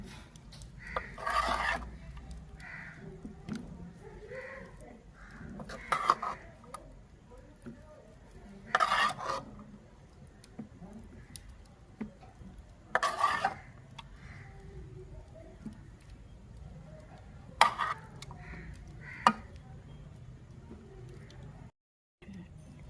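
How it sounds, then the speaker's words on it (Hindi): Metal spoon scraping and clinking against a cooking pot while chicken and cauliflower curry is served out, several distinct clanks spread across a quiet kitchen background, with a voice talking softly in between. "अब हम करते हैं डिश आउट।"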